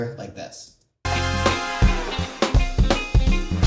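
Layered snare drum hits sitting forward in a full music mix, cracking in a steady backbeat of about five strikes after a short quiet lead-in, with no talking.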